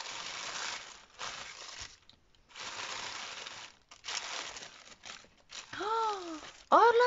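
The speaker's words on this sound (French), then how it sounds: "j'ouvre d'abord ton petit cadeau." Crinkly paper rustles and tears in several bursts as a small gift is unwrapped up close, broken by short pauses, ending with a few brief squeaky sounds.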